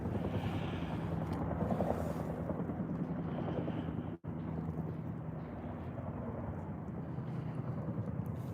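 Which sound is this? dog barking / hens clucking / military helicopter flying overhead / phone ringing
military helicopter flying overhead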